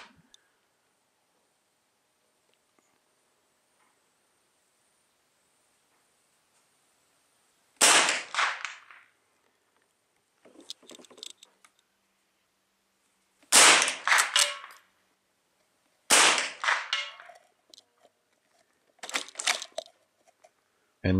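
.22 LR rifle shots fired outdoors at a metal target, four sharp loud cracks spaced several seconds apart, each followed by a short ringing tail and faint echo, with quiet between.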